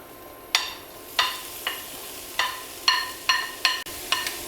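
Onions and two peppers sizzle in a hot pan, with a steady frying hiss broken by sharp spatula stirs and scrapes about every half second to second, close and moderately loud, with no voices.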